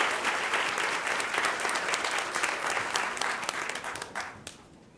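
An audience at a Board of Education meeting applauds Meade Middle School JROTC cadets after the color guard, a dense, loud wash of clapping that holds steady, then thins and fades out toward the end.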